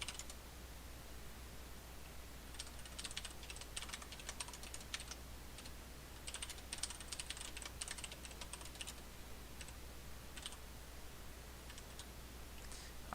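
Quiet, steady typing on a computer keyboard, with bursts of key clicks coming in irregular runs over a low constant hum, with no talk.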